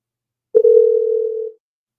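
A single steady telephone tone sounds while a call is being placed, one continuous pure tone lasting about a second, clear and alone after a faint click at its start.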